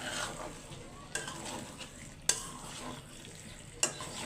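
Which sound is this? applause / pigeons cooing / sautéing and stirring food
sautéing and stirring food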